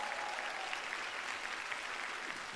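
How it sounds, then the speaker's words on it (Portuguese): A studio audience at a TV variety show gives a steady, loud round of applause, an even dense wash of clapping that holds at the same level throughout. "Uma salva de palmas para Dira Paz."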